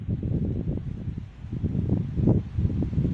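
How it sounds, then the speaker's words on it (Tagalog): Strong wind sweeps across a small vegetable garden of pechay, buffeting the microphone in low, uneven rumbling gusts that rise and fall. "lakas ng hangin po mga ka-MC"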